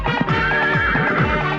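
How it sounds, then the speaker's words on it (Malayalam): A horse gives a loud, close whinny: a quavering neigh that rises and falls in pitch across a second and a half, with no voices over it. "കുതിര കുതിര"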